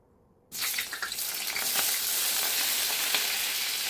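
Cooking oil hits a hot pan and bursts into a loud, steady sizzle that starts abruptly after a moment of quiet and holds without a break, with no one talking.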